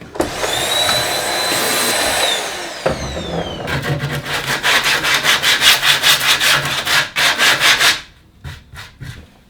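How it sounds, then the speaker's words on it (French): A vacuum cleaner runs with a steady, close whine over a workshop floor after wood cutting, then gives way to rhythmic rubbing and scraping strokes that stop abruptly near the end, with no voices. "Plus qu'à aller chercher l'aspirateur."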